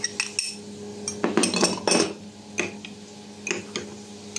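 A utensil stirring cornstarch thickener into a sauce in a pan, giving irregular clinks and scrapes of metal against cookware in short clustered taps, close and clear with no talking.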